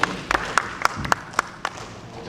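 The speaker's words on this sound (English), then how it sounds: "Round of applause, ladies and gentlemen." Clapping at a pageant sashing ceremony: a few sharp, evenly spaced claps ring out, sparse and fairly close, like a small group or single pair of hands rather than a big crowd.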